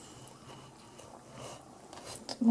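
Someone bites into crunchy apple pie crust with a brief crisp crunch near the end, following soft quiet chewing-like rustles close to the ear.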